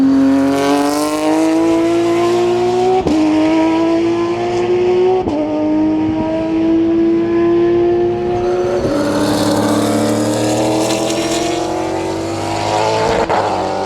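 Race car driving into a corner on track: a loud, close engine note holding steady, dipping at gear changes and braking, then building again out of the bend, with no talk.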